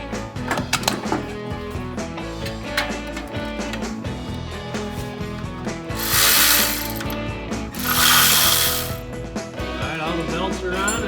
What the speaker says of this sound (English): Now when I tighten the front bracket, so I'll snug it up.